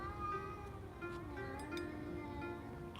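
Cats yowling outdoors in a low, drawn-out wavering cry that holds steady through the moment, fairly faint against a constant background hum.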